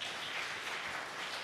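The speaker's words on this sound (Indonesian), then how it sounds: "Tepuk tangan adalah." Church audience clapping hands, a quiet, dense wash of distant applause over a brief moment.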